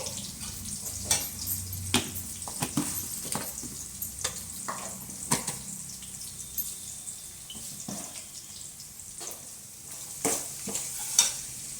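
Chopped onions fry with salt in a pan for masala rice made from leftover rice: a steady, soft sizzle runs throughout, broken by frequent sharp scrapes and clacks of a spatula stirring, with no voices.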